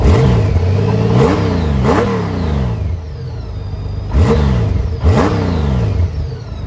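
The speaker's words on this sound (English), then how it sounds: "It's got a nice little rumble to it, but it's not too loud." A 2012 Honda Goldwing Motor Trike Prowler engine idles with a loud, close rumble, blipped up in several quick revs that rise and fall, two pairs of throttle bursts with steady idling between.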